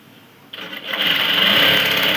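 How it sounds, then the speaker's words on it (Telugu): A sewing machine stitching a fold on a baby frock made from a nightie, starting after a quiet half second and then running as a steady close whirring hum to the end. "ఇలా మడుచుకుంటూ ఒక కుట్టు అనేది వేసుకుందాం"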